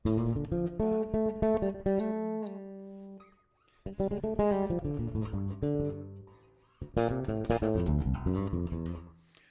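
An electric guitar through an MXR Carbon Copy Mini analog delay pedal plays phrases of plucked notes and chords with smeared, repeating echoes trailing off between bursts, up close with no talking.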